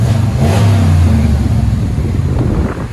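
A 2020 RAM 1500 with a 5.7L HEMI V8 and Flowmaster 40 Series dual exhaust revs loudly up close, a deep throaty rumble rising in pitch then easing back down.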